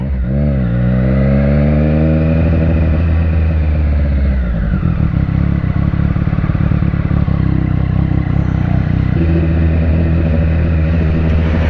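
A motorcycle rides through a castle grounds area, and its engine drones loudly and steadily close to the mic. The revs drop and then climb again as it slows and picks up speed, with a few clattering bumps.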